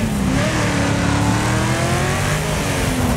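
Racing car engine in the Wreckfest demolition derby game, revving and droning continuously with shifting pitch as it brakes and turns through a corner, loud and steady throughout, with a faint hint of tyre squeal.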